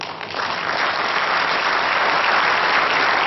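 An audience at a pétanque masters event in Madagascar breaks into loud, sustained applause for a player welcomed onstage, the dense clapping rising in the first moment and then holding steady throughout.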